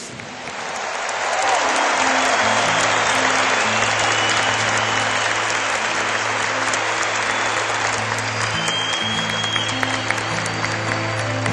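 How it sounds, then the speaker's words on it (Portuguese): A church congregation at a healing and deliverance prayer service bursts into sustained applause for Jesus. The clapping swells within the first two seconds into a dense, roaring wall of sound and keeps going strongly, with faint voices mixed in. "Palmas para Jesus!"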